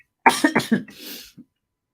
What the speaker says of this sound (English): I am coughing horribly today.